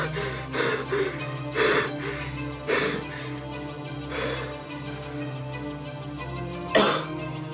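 Several coughs and throat-clearing bursts spaced over a few seconds against a steady low music bed, with one last sharp cough near the end, fairly close and moderately loud.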